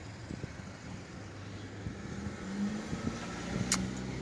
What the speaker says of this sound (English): that car that's driving down the road